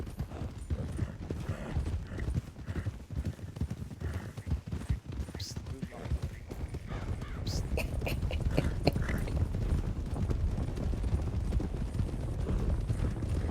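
A horse's hooves clip-clop in a steady, close rhythm on a hard surface, with people talking over them throughout.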